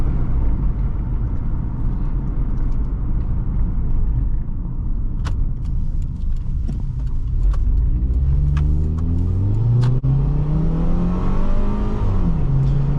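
A 2006 Subaru Forester 2.5 X accelerates while driving. The engine rumbles loudly and steadily from inside the cabin, then climbs in pitch as it revs up near the end, with a few faint clicks and rattles.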